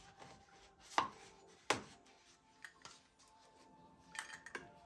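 Ingredients, milk among them, pounded in a mortar with a pestle: a handful of sharp, irregular strikes, two loud close blows early on and lighter knocks later, with quiet between them.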